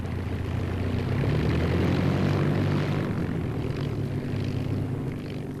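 A propeller training aircraft at an air force college flies past, its steady droning engine swelling louder mid-clip and then easing away, heard alone without voices.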